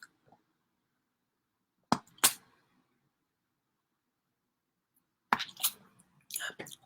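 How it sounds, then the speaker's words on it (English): A person taking a little drink of water: two short clusters of soft sips and swallows, separated by a few seconds of near silence, with nothing else heard. "just going to take a little drink of water"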